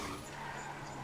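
A Toyota Fortuner speeds and skids in GTA V, a brief continuous hiss of tire skid over low engine drone, steady and fairly faint with no voices.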